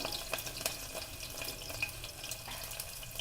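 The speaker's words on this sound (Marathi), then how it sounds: "आता मिरची टाकते" Green chillies dropped into a cumin tempering give a soft, steady sizzle and crackle with a few small pops, heard close but faint and without any voices.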